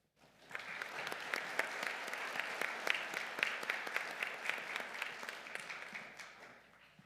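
Applause welcomes the keynote speaker at an honors convocation, a steady hall-filling clatter of many hands that swells in quickly, holds for several seconds and gradually tapers off.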